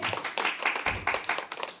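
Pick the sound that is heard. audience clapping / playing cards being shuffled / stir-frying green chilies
audience clapping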